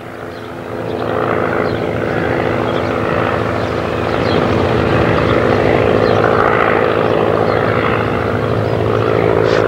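A vintage aeroplane piston engine runs with a loud, steady propeller drone that swells slightly and holds at full volume, with no talk over it.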